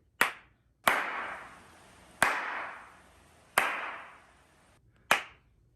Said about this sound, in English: So now I'm going to do the clap test.